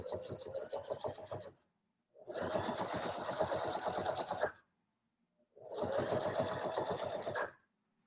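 A sewing machine stitches a stocking in three steady runs of rapid mechanical whirring, each a couple of seconds long, separated by short pauses.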